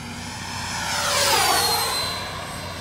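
A Freewing JAS-39 Gripen RC jet with an 80mm electric ducted fan whooshes past on its maiden flight, its whine rising as it nears and then fading as it pulls away.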